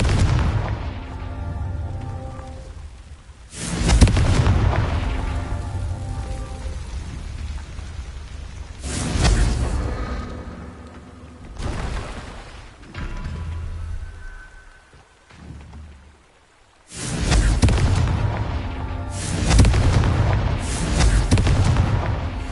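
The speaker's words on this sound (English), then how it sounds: "Confringo" Confringo spell blasts in the Hogwarts Legacy video game land as several loud, booming explosions, each a sudden broadband burst that rumbles and fades, separated by quieter stretches with a stormy, crackling background.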